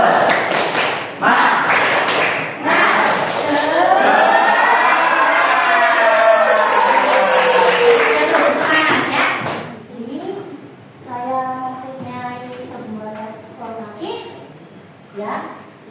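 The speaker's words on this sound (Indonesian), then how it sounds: "Tepuk semangat." A group does a rhythmic spirit clap (tepuk semangat), clapping in a quick pattern together, then the clapping stops and a single voice talks.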